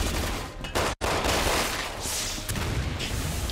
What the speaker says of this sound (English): Who's shooting me and from where?